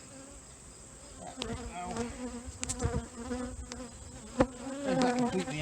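Honey bees buzz steadily and close by while two nucs are combined for winter, a dense continuous hum with frame knocks and handling clatter, and a brief spoken phrase near the end.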